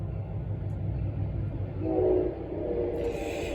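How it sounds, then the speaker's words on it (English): A train rumbles past at a moderate distance, its low steady rolling noise swelling briefly in the middle, with a faint hiss creeping in near the end and no talk over it. "And there's the train."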